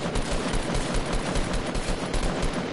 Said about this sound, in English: Hey, gunshot.